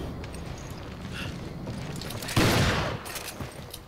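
Gunfire in Resident Evil 5 with a nightmare mod: a loud, dense burst lasts about half a second over steady in-game background noise, then fades into lighter clatter.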